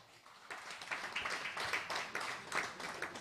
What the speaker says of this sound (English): With a resounding round of applause, let's invite Dr. Asante